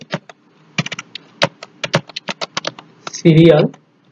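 Arduino code being typed on a computer keyboard, a steady run of close, crisp key taps ending in a longer burst of rapid clatter.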